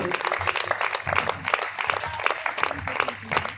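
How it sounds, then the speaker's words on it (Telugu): Audience applause at a Christian audio album launch, a dense, continuous crowd of hands clapping close and loud throughout, with faint voices mixed underneath. "అందరూ చప్పట్లు కొట్టాలి."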